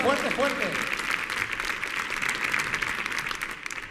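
An audience applauds a flamenco singer on a comedy show stage, a dense, lively round of clapping that runs for several seconds, with a voice speaking briefly at the start.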